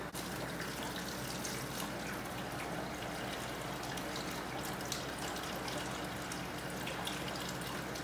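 Soft, steady trickling and pouring of water as aquarium water drains from a cut fish bag through a fine mesh net into a tank holding new angelfish, faint and continuous.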